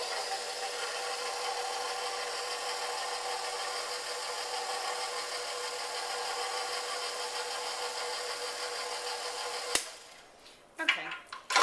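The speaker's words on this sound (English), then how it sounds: "I'm just going to whisk this for a second just to incorporate all the ingredients." A steady, close whirring rush of whisking spinach-square ingredients in a bowl runs unbroken for about ten seconds, then cuts off abruptly, followed by a few brief knocks.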